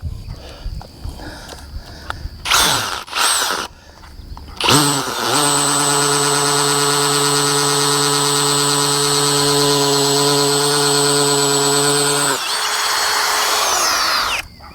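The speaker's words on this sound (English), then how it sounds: "Okay, we got our first one drilled." A power drill whines steadily for several seconds at close range, boring into a wooden fence post and winding down at the end, after a few short bursts of drilling and some background noise.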